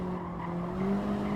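Alpine A110 or Honda Civic Type R braking hard into a corner, tires squealing and skidding in a steady sustained screech over the engine, rising slightly toward the end, close and loud.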